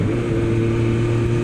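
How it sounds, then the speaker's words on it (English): An oil-cooled 1998 Suzuki Bandit 600 motorcycle engine runs at a steady, loud drone with a mechanical edge, heard up close and continuous with no talking. "it all started off being oil cooled, so it can give the engine a bit more of a sort of mechanical sound."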